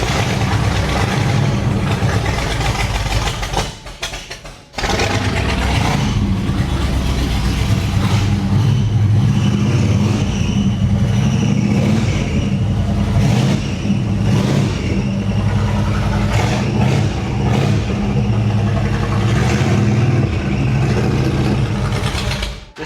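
An old carbureted V8 monster truck engine cranks to life and revs hard, a loud, continuous low rumble near the microphone with a brief dip around five seconds before the steady roaring resumes.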